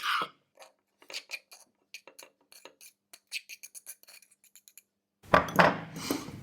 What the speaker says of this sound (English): Now we mix the onion and leek mix with the smashed egg yolk.